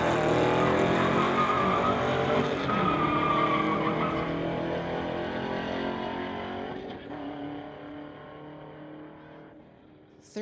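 A Camaro race car in a street legal drag race on the Lordco lane at the MOPAC Street Legals event: a loud engine roar with tire noise that sweeps past and fades into the distance over about ten seconds, no speech.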